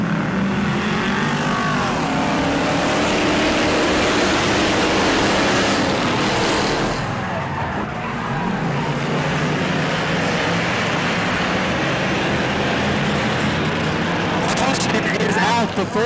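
Dirt-track race cars at an Auburndale weekly racing event roar steadily through a restart, a loud continuous engine din with passing cars, while an announcer's voice carries over the noise.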